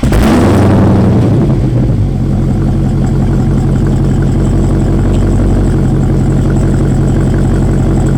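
A 2018 Dodge Challenger SRT Hellcat Widebody with its 707-horsepower engine blips loudly at first, then settles into a deep, steady, rumbling idle close by, with no voices.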